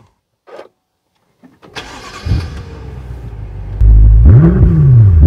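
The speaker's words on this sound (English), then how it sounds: "if I jump in and start up the car" After a few faint clicks, a 2013 BMW M5's engine cranks and starts, then roars loudly into life and revs up in a rising, sweeping tone.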